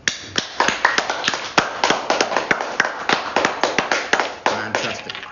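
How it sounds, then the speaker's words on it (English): A small group applauds the winners of a 500-word writing competition hosted by the Chester town crier, with dense, uneven hand claps overlapping for several seconds, close and lively, and no talking. "we can all pause there and wildly applaud the winners"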